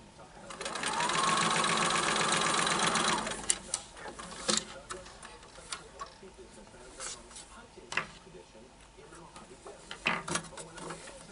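A sewing machine stitches a quilt block seam for a four patch block in one loud, fast burst of about three seconds. Scattered handling clicks and fabric rustles follow at close range.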